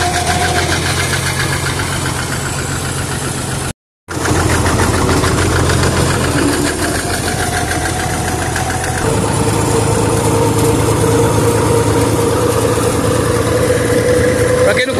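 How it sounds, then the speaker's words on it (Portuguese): A Massey Ferguson 95X tractor idles close by with a steady, loud diesel chug and a knocking rhythm, broken by one brief cut before the drone carries on with a slight shift in pitch. "esse é o Massey Ferguson 95X"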